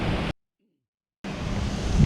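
Loud, rushing cold wind buffeting the microphone, broken by a sudden second of silence before the roaring gusts resume.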